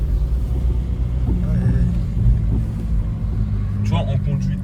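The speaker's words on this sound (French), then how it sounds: "On entend vraiment le turbo qui monte" Volkswagen TDI turbo diesel car engine droning steadily from inside the car, a low, continuous rumble with a faint rising turbo tone, heard under someone talking throughout.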